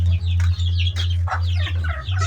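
Chickens and chicks of a fighting-cock breed cluck and chirp in short bursts over a constant low hum, close and fairly quiet, with no talk.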